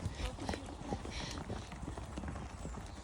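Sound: horse trotting, hooves on trail

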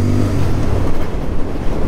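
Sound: Royal Enfield Bear 650 motorcycle engine running

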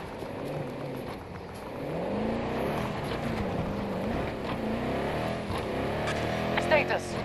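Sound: transport vehicle arriving, from video game Battlefield 2042

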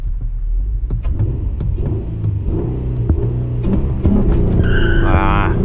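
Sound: manual Acura TL launching

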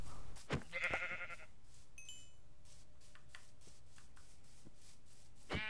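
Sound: sheep bleating in Minecraft video game

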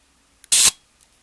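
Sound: shutter release of 1937 LeCoultre Compass 35mm camera

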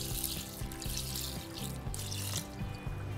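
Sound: pouring a cup of water into a cooking pot

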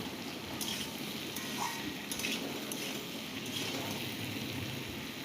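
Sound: potatoes and pointed gourd (potol) frying together in a pan

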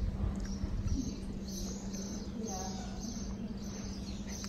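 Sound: birds singing at breakfast by the pool in Italy

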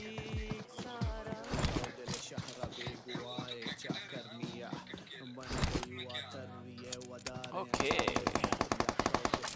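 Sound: gunfire in the video game PUBG Mobile

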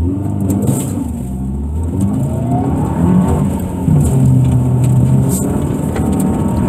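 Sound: Subaru Impreza engine accelerating during ice racing autocross run

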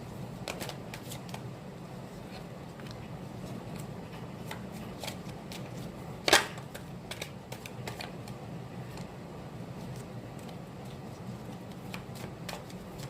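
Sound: shuffling tarot cards

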